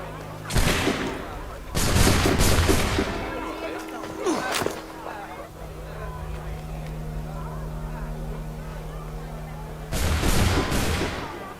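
Musket volleys fired on command in Assassin's Creed III, loud crackling bursts of massed gunfire at the start and again near the end, with a lower rumbling stretch and a voice between them.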